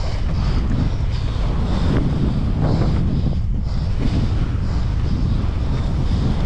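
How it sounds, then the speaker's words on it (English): Strong gusting wind buffets the microphone on a windy day at a bike jump gap, a loud, continuous roar with rumbling low-end surges and no voices. "I cannot jump. It's too windy."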